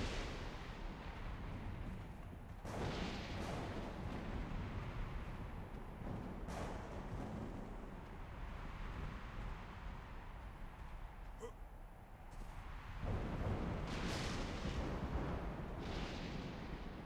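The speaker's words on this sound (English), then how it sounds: "Sounds like an electrical storm." An electrical storm in the video game Ark: Scorched Earth rumbles with a few heavy, broad thunder cracks spaced seconds apart over a constant low roar, fairly faint overall.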